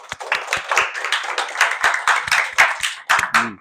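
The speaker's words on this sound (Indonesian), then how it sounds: "tepuk tangan untuk kalian semua" A classroom of students clapping for one another, fairly close and loud, with uneven bursts of individual claps building into a ragged round of applause that stops abruptly near the end.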